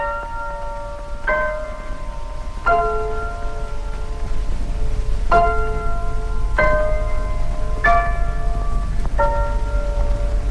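Piano chords mimicking the Big Ben chimes open a scratchy 1951 recording, sounding as about seven struck, ringing bell-like chords spaced a second or two apart over steady record hiss.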